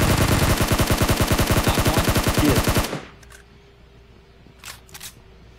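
Rapid automatic gunfire rattles loudly and evenly for about three seconds during a hot drop in a shooter video game, then cuts off, leaving a low hum and two brief sharp clicks.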